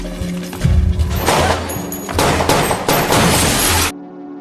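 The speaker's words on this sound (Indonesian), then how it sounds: "Baku tembak pun tak dapat dihindarkan antara Madrugadao dan pasukan PUBG-nya, dan Nepasto beserta pasukan EPEP-nya." Gunfire rips through a film shootout between rival gangster crews, loud dense volleys and crashing impacts packed over a music bed for about four seconds before cutting off abruptly.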